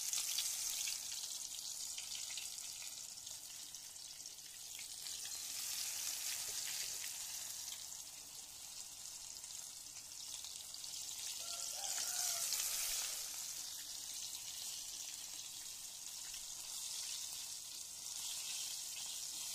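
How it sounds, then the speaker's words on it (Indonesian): Flour-coated tempeh fries in hot oil, a steady hissing sizzle with crackling that swells and eases over time, close and moderately quiet, with no talking. "kita gulung-gulung terus kita goreng"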